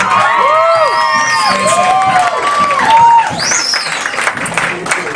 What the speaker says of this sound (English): Everyone, clap your hands.